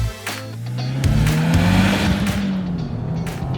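A 2024 Subaru WRX TR accelerates hard, its engine loud and close, pitch rising steadily through the rev range with a gear change, alone without talk.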